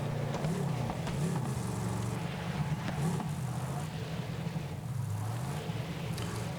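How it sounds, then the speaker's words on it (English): A deep, steady engine rumble from a car in the Borderlands video game, droning continuously throughout with low wavering tones and faint game effects layered on top. "it's got like a deep rumbling engine noise, even though the look of the car seems quite fragile, dainty looking."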